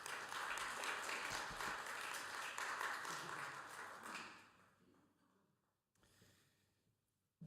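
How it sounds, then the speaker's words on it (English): Warm audience applause at a peace conference, steady clapping from a crowd for about four seconds before tapering off, followed by a quiet room and a soft thump. "If you can give him another warm round of applause."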